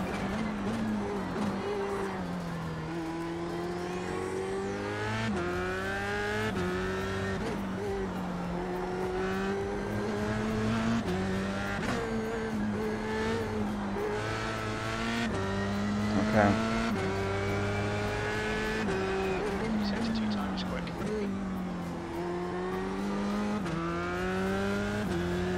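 An F1 race car in the iRacing video game revs continuously, its engine pitch rising and dropping through gear changes and corners, loud and close for the whole stretch.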